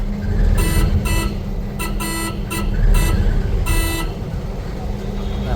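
Repeated loud vehicle horn blasts, short and uneven, sound over steady engine and traffic noise on a village road, with voices faintly in the mix.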